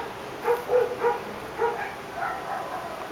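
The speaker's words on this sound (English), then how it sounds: "the dogs haven't been barking all day," Dogs bark in a short series of yips and barks from some distance, several quick calls clustered together and then a few more after a pause, moderately loud over a steady background hiss.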